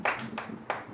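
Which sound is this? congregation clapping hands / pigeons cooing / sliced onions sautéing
congregation clapping hands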